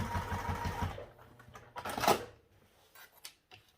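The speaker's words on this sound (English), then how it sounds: "Okay, we've top stitched there." A sewing machine top-stitches a crossbody bag with a regular presser foot, giving a quick, close run of rhythmic needle clatter before it stops, followed by a few faint handling clicks.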